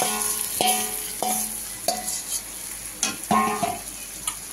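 Potato, papaya and capsicum stir-fried in a pan, with soft sizzling under a run of repeated scraping stirs at a steady rhythm, close and moderately loud, with no talking.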